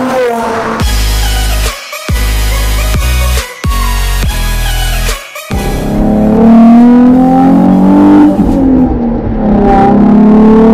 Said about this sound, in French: nous voilà partis à bord de cette Nissan 350Z